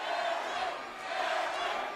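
A large MMA event crowd roars in a sustained, swelling wash of cheering and shouting, dipping briefly in the middle before rising again, with a commentator's voice faintly underneath.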